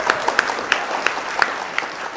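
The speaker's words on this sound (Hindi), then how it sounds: "एक बार जोरदार तालियां मनीष के लिए बजा हुआ" A comedy show audience claps loudly, with a handful of sharp individual claps standing out over a softer wash of applause.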